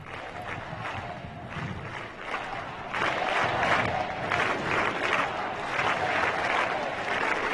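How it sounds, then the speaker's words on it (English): Crowds of university students at the Catholic University of Portugal cheer and applaud for the Pope, a broad, distant roar of voices and clapping that rises midway and stays busy. "And we hear the crowds."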